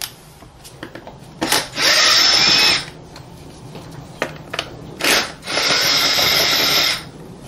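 A power driver fitted with a T25 Torx bit undoes screws on the air filter box of a 2013 Mercedes B180 CDI BlueEFFICIENCY, two loud, close whirring bursts of about a second each, separated by quiet handling clicks.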